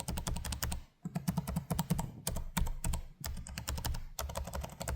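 Rapid, steady typing on the clicky, tactile keyboard of a Lenovo Legion Pro 5 16-inch gaming laptop (2025), with dense keystrokes in close bursts broken by short pauses.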